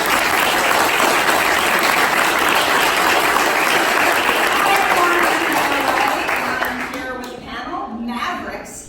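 Audience applause at a soccer panel event at a SoHo pop-up in New York, steady, dense clapping that fills the room, then thins and fades toward the end.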